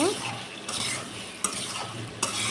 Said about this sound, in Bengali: সে বন্ধুরা একটু ভালো করে নাড়াচাড়া করে কষিয়ে নেব